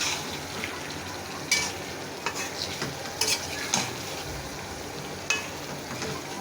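Chicken cooked in coconut paste masala sizzles quietly in a pan, a steady low frying hiss punctuated by several sharp scrapes and taps of a spoon stirring.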